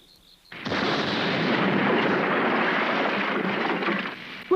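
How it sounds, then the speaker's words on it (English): A bomb explosion in a town under attack, a sudden deep roaring blast that swells and rumbles on for several seconds as a dense, heavy wash of noise before fading. "Look! Another bomb!"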